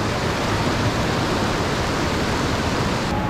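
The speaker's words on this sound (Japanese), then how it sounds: "水しぶきとかやばいです" A heavy waterfall at Akame Shijuhachi Falls in high flow roars with crashing spray as a dense, constant wash of noise, loud and close, with no voices.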